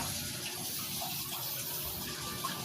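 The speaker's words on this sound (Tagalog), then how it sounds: "Bantayan natin hanggang mapuno yung tubig." Water runs steadily into a drum, a continuous hollow gush with no talk over it, close and fairly quiet.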